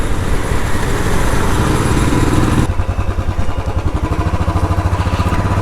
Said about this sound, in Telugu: ఎగ్జాస్ట్ థంప్ కూడా సూపర్ ఉంది.